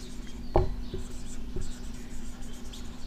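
Chalk or pen writes on a board during a geography lesson, a few quick scratchy strokes and a sharp tap, heard close over a faint steady hum with quiet speech.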